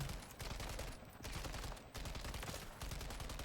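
Rapid sustained light machine gun fire in the video game Warzone 3, loud dense bursts with brief pauses between strings of shots at a firing range.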